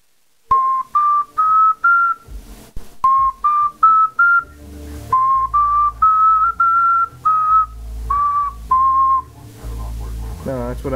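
Homemade ocarina with a newly made fipple, playing short phrases of clear, pure whistle-like notes in stepped runs, close and fairly loud, with a low background hum beneath.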